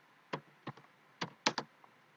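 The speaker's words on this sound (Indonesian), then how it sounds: "Oke, kita akan mulai mengetik." Typing on a computer keyboard in Microsoft Word 2013: five or six distinct, fairly quiet key clicks at irregular intervals, some in quick pairs, against a near-silent background.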